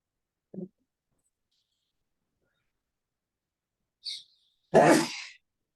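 A single sharp, forceful sneeze bursts out near the end after a mostly quiet stretch, with a couple of faint short sounds before it.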